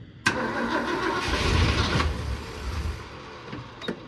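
An engine cranks and catches with an abrupt burst, then settles into a rough, fluctuating run. The roar swells and dips before easing off near the end, close by and fairly loud.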